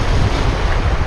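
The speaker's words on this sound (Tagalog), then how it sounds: "tapos may alon-alon." Waves wash over a shallow, rocky, sandy shore in Palawan, a steady loud roar of surf mixed with heavy wind buffeting the microphone, close and continuous with no voices.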